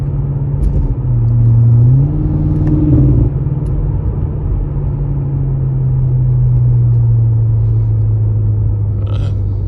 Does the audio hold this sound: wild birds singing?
no